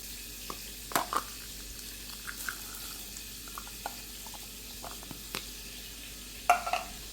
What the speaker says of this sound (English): So I'm just browning the butter until the milk contents turn brown, which will give it like a nutty flavor.